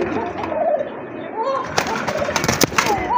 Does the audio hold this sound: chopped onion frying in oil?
no